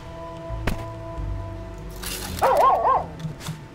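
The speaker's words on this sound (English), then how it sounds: "Oh, it's a dog." A dog in the puzzle game Infinifactory gives a short burst of barks near the end, after a sharp click and quiet mechanical hum.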